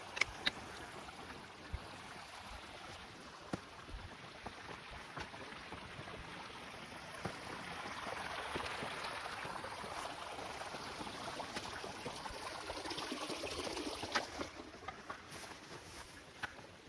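Stream water trickles and splashes into a small rocky plunge pool at a mountain campground park, a soft steady wash that swells in the middle, faint and close with occasional small clicks.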